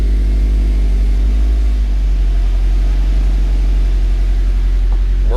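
A Subaru BRZ engine runs steadily in first gear with the car up on jack stands, giving a loud, deep drone with a rumbling drivetrain hum that shifts slightly as the clutch engages.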